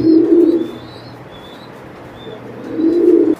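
Pigeons coo in low, throaty rolls, one burst at the start and another near the end, with a quiet lull between and faint chirps above.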